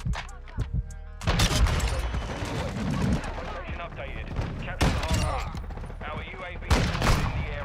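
Dense, loud rifle and automatic gunfire from Call of Duty Modern Warfare 2, played with an SP-R 208 loadout, comes in rapid overlapping volleys with heavy booms, and a player speaks over it.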